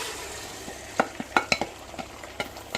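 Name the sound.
eggs frying in a pan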